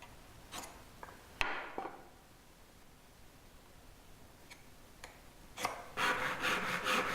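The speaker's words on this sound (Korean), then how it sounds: "부재는 선에 맞춰 톱질하고" A hand saw cuts wood for traditional Korean joinery in quiet surroundings, with a few faint rasping strokes and scattered knocks before a steadier burst of close sawing near the end.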